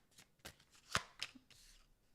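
Tarot cards shuffled by hand in a few crisp riffling bursts and slaps, close and fairly quiet, with a brief pause between strokes.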